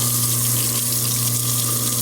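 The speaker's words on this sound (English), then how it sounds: "You start out by running hot water" Hot water runs steadily from a faucet into a kitchen sink fitted with a garbage disposal, a continuous close splashing rush with a faint hum underneath.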